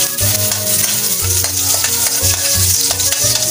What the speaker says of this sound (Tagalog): since mainit na po siya, okay, ilagay na po natin yung ating bawang